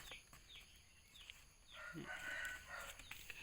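A Thai Kasem Sap chicken crows faintly at a distance outdoors, its call rising briefly over quiet background ambience.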